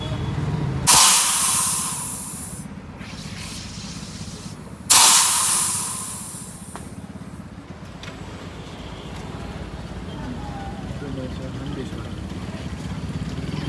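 Cold soda bursts open twice in sharp, loud fizzing hisses a few seconds apart, each fading into a softer bubbling while people talk and laugh around it.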